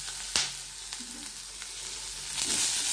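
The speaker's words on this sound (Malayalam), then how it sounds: "ഉള്ളിയും പച്ചമുളകും ഇട്ട് വഴറ്റി കൊടുക്കാം" Onion and green chillies sauté in hot oil with a dense, continuous sizzle, a couple of light spoon knocks standing out near the start and middle, close and fairly loud throughout.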